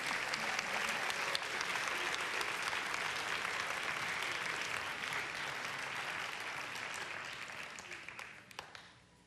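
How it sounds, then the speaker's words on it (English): Audience applause for the 2017 Junior Miss Strassenfest pageant contestants, a dense, steady wash of clapping from a large crowd that holds for most of the stretch before tapering off near the end. "let's give another round of applause to our 2017 Junior Miss Strassenfest contestants"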